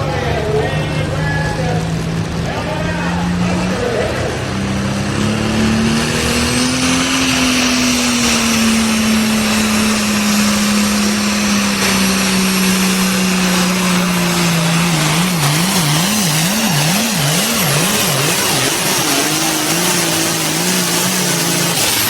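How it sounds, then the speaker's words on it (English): A Super Farm tractor makes its pull run at a truck and tractor pull, a loud, sustained engine roar whose pitch climbs slowly, then dips and wavers near the end. "we're going to show Eric's run here on his Super Farm tractor"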